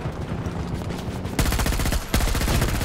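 Rapid bursts of automatic gunfire from a suppressed MTAR rifle in a military shooter game, dense repeated shots loud and close with a brief gap, more fire crackling in the distance.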